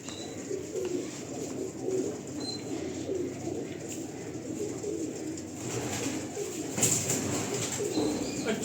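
Pigeons cooing in a loft, repeated soft low coos from several birds over a steady background hum, with occasional faint chirps and light rustling.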